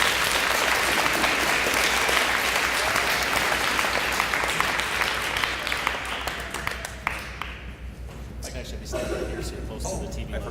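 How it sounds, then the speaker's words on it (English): A school audience at a charter school DARE graduation claps for the principal, loud close applause that thins out after several seconds into scattered claps with voices murmuring in the room. "Let's give him a round of applause for Mr. Mendak"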